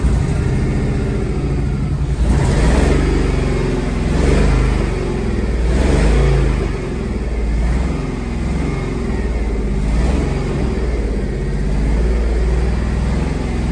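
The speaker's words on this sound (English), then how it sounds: "And hey, Clay, can you blip the throttle on the throttle body?" Engine repeatedly revved by blipping the throttle directly at the throttle body of a rock-crawling rig, several rising and falling surges over a steady loud idle rumble, close and continuous with no talk.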